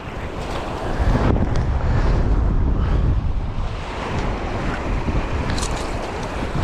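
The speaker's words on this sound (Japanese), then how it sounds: "いい雨だ、いい雨。" Rain and strong gusting wind roar outdoors at Lake Kussharo in Hokkaido during a storm, a loud, continuous rushing wash with buffeting wind noise on the microphone and no speech.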